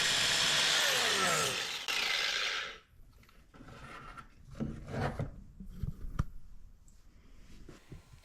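Loud, steady rasping of a saw cutting notches in PVC pipe for about three seconds, then quieter scraping and handling clatter.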